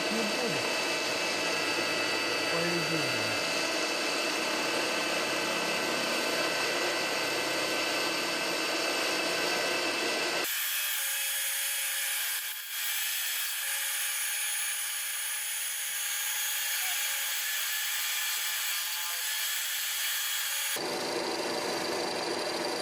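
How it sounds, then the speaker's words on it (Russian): A milling cutter surfaces a Hyundai H1 Starex cylinder head, giving a loud, steady machining whir that shifts abruptly to a thinner, higher tone partway through, then returns to the fuller grind. "Далее фрезой спланируем поверхность."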